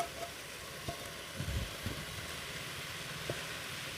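Sugar syrup poured into chana dal frying in a pan for mohan bhog, a steady close hiss of sizzling with a few soft stirring knocks.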